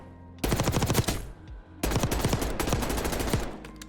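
Two long bursts of rapid automatic SMG fire at the firing range in Black Ops 6, loud and close, with a short pause between them and no talk.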